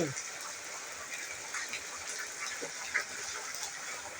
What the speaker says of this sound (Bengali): এত বৃষ্টি করছে আমার বাইরে বসে ভিডিও করছি